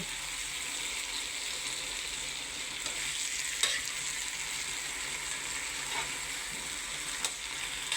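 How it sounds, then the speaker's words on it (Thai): Bok choy and glass noodles stir-fried in a pan for a vegetarian dish: steady high sizzle throughout with occasional scraping clicks of the spatula, close and even, no talking. "วุ้นเส้นค่ะใส่ลงไปเลย"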